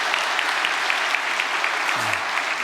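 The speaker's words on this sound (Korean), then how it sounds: "교회장님들을 위해서 다시 한번 박수 한번 보내겠습니다." Church audience applauding at a gathering, dense continuous clapping from many hands, steady and fairly close, with a brief voice near the end.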